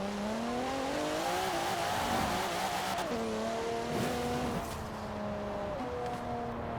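Retro Alfa Romeo in Forza Horizon 4 roars at full throttle, its engine note climbing and shifting through gears in a steady, loud, raspy drone with a brief tire squeal.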